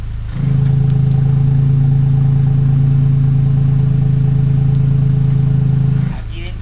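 Car engine running with the exhaust cutout valve open, a steady loud low drone holding for about six seconds before cutting out, without clear revving swings.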